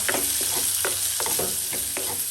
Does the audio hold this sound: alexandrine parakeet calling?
no